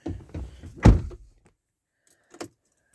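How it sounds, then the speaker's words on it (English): Door on a 2013 Audi Q7 3.0 TDI quattro S line shuts with a single close, solid thunk after some rustling, followed by a faint click. "Let's shut the door."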